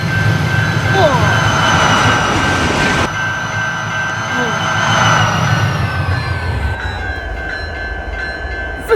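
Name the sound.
CN freight train at high speed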